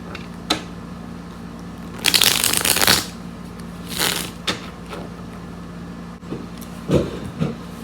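Tarot cards shuffled by hand in a few separate bursts of riffling and flicking, close and fairly loud, with soft handling and tapping between them and no talk.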